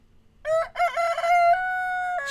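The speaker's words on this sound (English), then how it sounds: "You have all this land, Rooster, and you fucking gotta stand right next to my fucking microphone." A rooster crows loudly right beside the microphone, one long, close cock-a-doodle-doo that starts with a few rough syllables and ends in a sustained held note.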